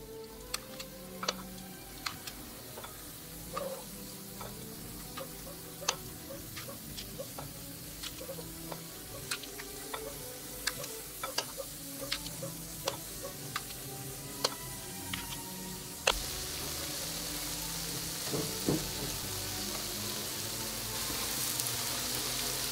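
Spoonfuls of yogurt fritter batter dropped into hot oil, giving a steady bubbling sizzle dotted with frequent sharp pops and crackles, with the hiss swelling louder toward the end.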